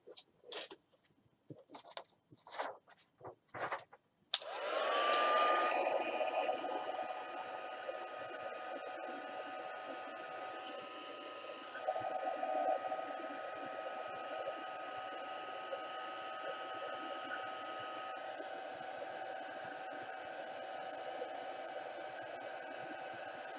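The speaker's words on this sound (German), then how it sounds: "So, jetzt werfe ich meinen Föhn an." A hair dryer is switched on after a few scattered clicks and handling noises, then blows with a loud, steady whoosh for nearly twenty seconds, with a slight shift in tone partway through.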